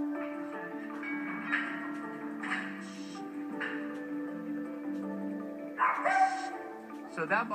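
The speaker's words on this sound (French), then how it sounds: "C'est normal qu'il aboie." A Chihuahua gives a few high, sharp barks and yips, scattered over a steady hum and some quiet voices.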